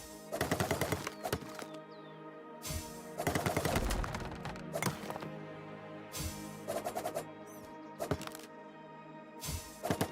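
Rapid flurry attack striking a tree in a video game, loud bursts of fast repeated impacts in several clusters separated by short gaps, heard over a steady humming game soundtrack.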